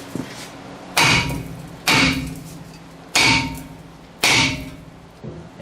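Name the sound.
hammer hitting brake rotor to break it from hub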